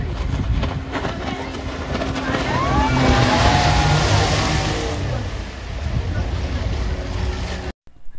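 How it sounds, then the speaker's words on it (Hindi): A speedboat races across the Kerala backwaters near Alleppey, its engine droning steadily and rising as it turns, with rushing water and wind throughout before cutting off abruptly at the end. "ये स्पीड बोट वाला आपको पूरे बैक वाटर्स में घुमाएगा"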